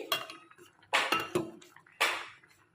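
Grated carrot payasam is stirred in a pan, with a few scraping clinks of a spoon against metal, soft and close.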